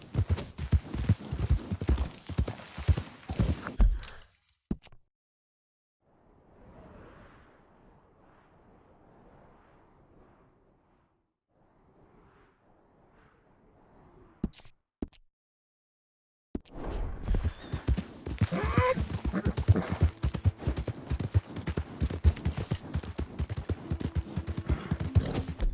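Horse hooves clip-clop in Red Dead Redemption 2, a dense run of hoofbeats at the start, a long near-silent gap with faint murmurs, then steady repeated hoof strikes resuming loudly to the end.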